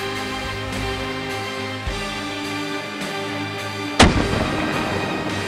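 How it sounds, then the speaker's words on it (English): A single loud rifle shot cracks out during a roebuck hunt in Germany, following several seconds of steady background noise and trailing into a brief rumbling echo. "gets him in his sights and makes a good, clean shot"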